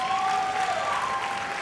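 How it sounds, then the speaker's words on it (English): An audience at a Job Corps graduation ceremony in Atlanta applauds steadily, a dense wash of clapping filling the hall at a fairly loud level, with a faint voice or feedback-like tone lingering beneath. "Give it a round of applause."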